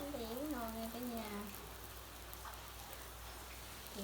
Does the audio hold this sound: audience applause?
no